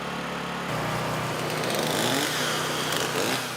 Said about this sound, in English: Chainsaws and generators gave a soundtrack to the relief effort the morning after.